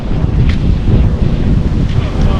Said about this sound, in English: Oh, it's so windy. It is so windy.